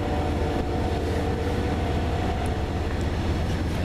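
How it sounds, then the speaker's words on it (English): A CN freight sand train rolls past at Ladysmith, a continuous loud low rumble of wagons with faint metallic squeals, steady and close throughout. "Little sand trains that came off the Valley Sub from Taylor."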